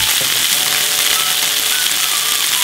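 Garlic frying in a pan for pork cooked in cider, a continuous close hiss and sizzle of hot oil holding steady throughout, with no talk over it.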